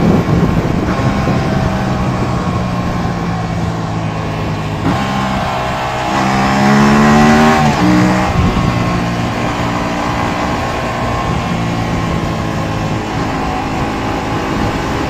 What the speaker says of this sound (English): Let's hear its downshifts.